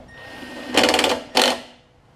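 An impact wrench drives bolts on a newer Murray push mower, firing two short, loud buzzing bursts close by, separated by a brief pause.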